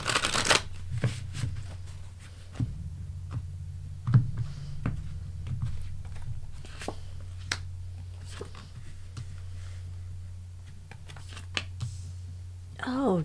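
Tarot cards being shuffled by hand, a long run of soft riffling and snapping flicks repeating irregularly over a low steady hum, fairly close.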